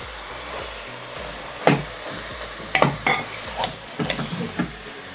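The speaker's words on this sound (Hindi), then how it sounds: "इसे बिल्कुल फ्राई करना है।" Chicken frying in a pan with spices while being stirred continuously, giving a steady loud sizzle with several scraping stir strokes toward the end.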